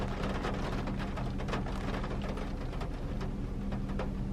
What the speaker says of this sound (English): Do you hear that rain?